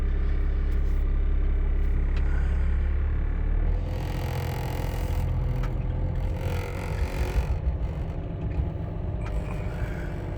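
A heavy Cummins diesel truck engine idles steadily up close, a deep low rumble that shifts slightly in tone partway through, with no voices.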